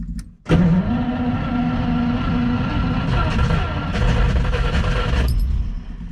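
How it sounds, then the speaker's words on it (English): A Ferrari 330 engine with its carburetor linkages disconnected cranks and catches after a brief pause, then runs at a loud, rough, steady idle close by before the sound fades at the end. "I'm trying to see if I can get this just started on its own without the linkages, so that way I can just get it to idle"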